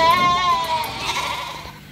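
Goats bleat at a commercial goat and sheep farm house in a tropical country, one close, loud wavering bleat followed by fainter overlapping calls in the background.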